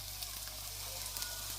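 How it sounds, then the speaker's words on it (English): Plantain slices fry in ghee in a pan, giving a faint, steady sizzle with small crackles and no voices. "I'm just making some fried plantains."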